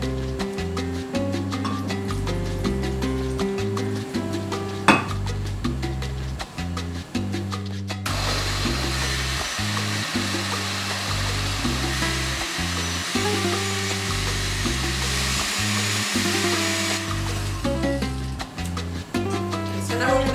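A loud, steady motorized whir runs throughout, shifting pitch midway as a blender churns beets, strawberries and water.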